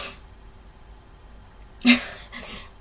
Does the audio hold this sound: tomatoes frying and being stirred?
no